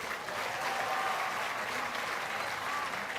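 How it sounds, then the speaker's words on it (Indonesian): A crowd at a groundbreaking ceremony for an Islamic boarding school claps for the Ministry of Public Works, a steady, fairly distant wash of applause throughout, heard without speech over it. "tepuk tangan untuk Kementerian PU"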